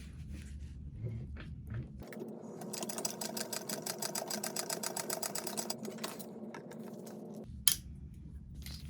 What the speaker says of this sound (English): Fold back everything and top stitch that seam.